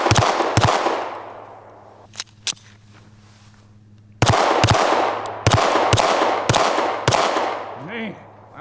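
Glock V pistol fired in a torture test, with several sharp, loud shots in two bursts: a pair, then two isolated pops, then a rapid run of five or so reports, each with a short ringing tail.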